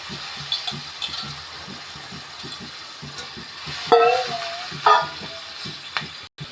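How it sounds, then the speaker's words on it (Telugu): Chicken, tomatoes, green chillies and onions fry in a pan with a soft continuous sizzle, broken by a few louder stirring scrapes near the end; no one speaks. "ఇప్పుడు టమాటాలను పచ్చిమిరపకాయలు ఉల్లిపాయలు వేగిపోయినాక చికెన్ వేసి వేసుకుందాం"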